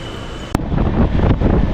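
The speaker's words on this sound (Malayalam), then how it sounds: "എടുത്തു കഴിഞ്ഞിരിക്കുന്നു. നമ്മൾ ട്രെയിനിലെ എടുത്തു." The 16341 Intercity Express starts pulling out of a station in Kerala, heard from inside as a loud, steady rumble with a sharp clack partway through, and no talking.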